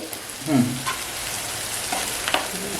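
Onion frying on medium gas for prawn tawa fry, a steady close sizzle with a few scraping stirs and brief knocks.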